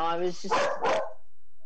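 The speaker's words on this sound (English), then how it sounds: "Sorry, that's my dog." A pet terrier barks twice in quick succession, close and fairly loud, just after a person's brief words.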